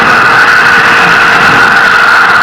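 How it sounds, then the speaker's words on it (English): The first-stage engines of a launch rocket keep firing during ascent, giving a steady, dense roar with a faint tonal hum and no breaks. "First stage engines are continuing to fire"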